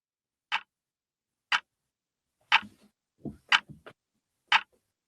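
A clock ticks in slow, evenly spaced clicks about once a second, quiet and close, with a few softer knocks between the later ticks.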